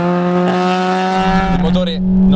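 Honda Integra Type R engine pulling hard as its VTEC engages, a steady, loud harmonic drone that shifts character and rises partway through, heard up close from inside the car.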